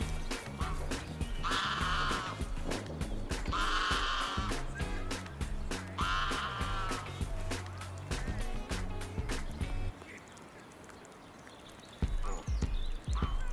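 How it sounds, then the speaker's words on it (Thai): Sheep on a hillside beside the River Trent near Burton Joyce village give three wavering bleats a couple of seconds apart, moderately distant, over steady outdoor wind and water noise that thins out near the end. "มีแกะอยู่ข้างบนหรือเปล่า"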